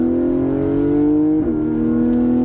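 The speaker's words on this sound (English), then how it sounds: "Of course, rear-wheel drive, mid-engine, and sounds like that." A Porsche Cayman GTS 4.0 mid-engine sports car engine hums at a sustained pitch, dips briefly, then settles back into a steady, throaty rev, heard close and loud.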